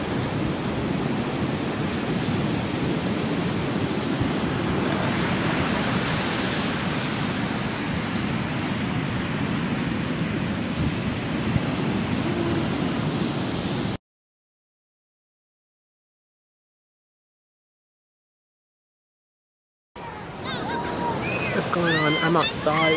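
Waves on a Pacific beach at night make a steady, broad rushing wash, followed by several seconds of silence and then a short return of the surf with voices.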